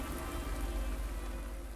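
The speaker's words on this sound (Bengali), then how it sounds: "কিছুক্ষণ বসার পরই বৃষ্টি অনেকটাই কমে যায়।" Steady rain falls on a surface during a stormy nor'wester night, a dense, even hiss with a low rumble that holds without pause and no voices.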